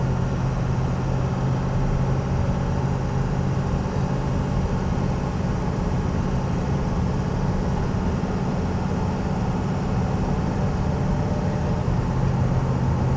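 Steady, droning engine hum and road rumble from a 2004 Ford Excursion Limited 4WD with the 6.0L Powerstroke diesel, cruising in third gear. The note stays constant and unbroken throughout, with no talk.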